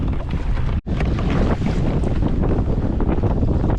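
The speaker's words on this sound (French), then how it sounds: "il y a des grosses rafales de vent" Strong wind gusts roar at sea during kayak fishing, buffeting the microphone in a constant loud rush with waves beneath, alone without talk.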